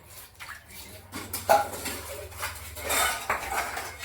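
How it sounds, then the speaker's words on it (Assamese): Dishes and cutlery being rinsed with water by hand, metal utensils clinking and scraping close by amid splashes and trickling water, in irregular bursts with short pauses. "এয়া মই পানী দি অখাৰি লৈছোঁ"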